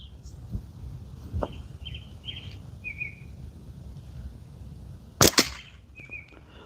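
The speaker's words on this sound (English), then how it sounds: "We'll shoot at that one." A single sharp gunshot cracks out while plinking at a target in the evening, followed by a brief echo, with birds chirping softly in the background before and after.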